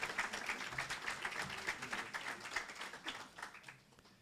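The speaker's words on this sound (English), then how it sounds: "Another round of applause to the Honorable Minister." Polite audience applause for South Africa's Minister of Transport at a formal event, moderately dense clapping that gradually thins and fades over a few seconds.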